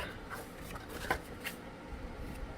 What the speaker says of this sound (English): Getting my bone folder, and I'm just going to run it along the seam and then fold it back